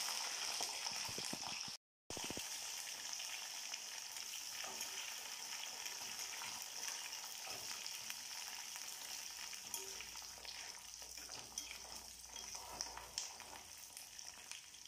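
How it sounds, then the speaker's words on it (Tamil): Garlic and onion fry gently in oil over a low flame, making a soft, continuous sizzle with light crackling that runs unbroken apart from one brief dropout. "இப்போ வந்து லைட்டாக அடுப்பை சுமரில் வச்சுட்டு பூண்டு வெங்காயம் எல்லாத்தையும் தாளிப்பேன்"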